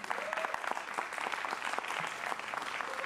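A crowd applauds a pianist at a live music performance, sustained even clapping filling the room throughout, fairly distant and moderate in level.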